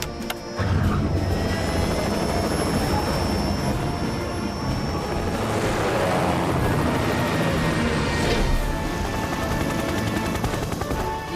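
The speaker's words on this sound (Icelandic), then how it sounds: "Ég get flogið þyrlunni." A cartoon rescue helicopter's rotor beats steadily and loudly for the whole stretch, close and continuous, with a faint engine whine above it and no talking.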